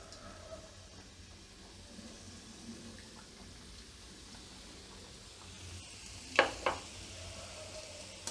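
Mawa ghughra, sweet dumplings, frying slowly in oil over a low gas flame, giving a faint, steady sizzle with a couple of sharp crackles near the end; no talking.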